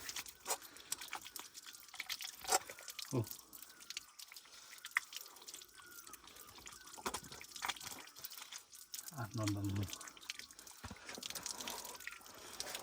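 Water from a tap splashes and drips quietly, with irregular close plops and trickles over a faint background hiss.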